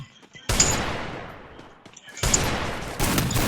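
Gunfire in a shooter video game lands a headshot: loud, sharp reports with long decaying reverberant tails, one early blast and a quick pair near the end.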